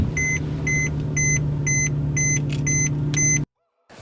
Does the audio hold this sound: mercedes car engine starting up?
yes